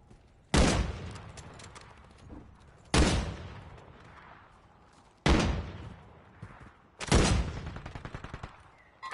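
Gunfire in Call of Duty Resurgence, four loud, sharp bursts spaced a couple of seconds apart, each cracking then decaying into echoing tails, the last trailing into a rapid rattle of automatic fire.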